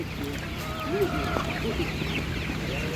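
Laying hens cluck and call softly at an outdoor animal market, a few short fowl calls over steady background murmur and ambient noise.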